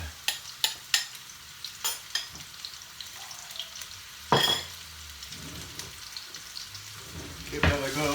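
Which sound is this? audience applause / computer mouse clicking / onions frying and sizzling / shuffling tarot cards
onions frying and sizzling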